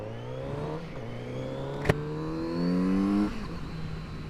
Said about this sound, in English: it's amazing how much faster this one accelerates